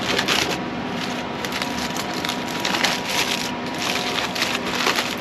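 Smoked Thor's hammer beef shank being unwrapped from tin foil, giving a steady close crinkling and rustling of foil with no talk.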